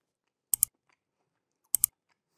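Someone bites into slow-cooked beef rib stew, giving two short pairs of wet, crisp chewing clicks about a second apart, close and quiet against silence.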